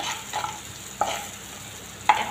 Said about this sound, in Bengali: টমেটো রান্না হয়ে গেছে, মানে ভাজা ভাজা হয়ে গেছে